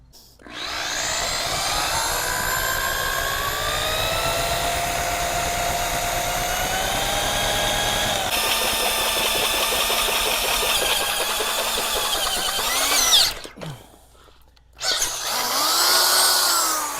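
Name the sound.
power drill running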